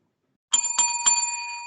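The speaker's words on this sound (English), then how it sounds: "there's the bell, so you know what that means." A bright metallic bell is struck three times in quick succession to mark the end of a wrestling podcast, and its ringing tone lingers and sustains afterward.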